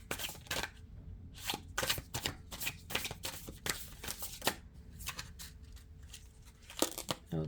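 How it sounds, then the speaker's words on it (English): Tarot cards being shuffled by hand close up: repeated quick riffling and flicking bursts in an irregular rhythm, continuing throughout with no talking. "as I shuffle these cards"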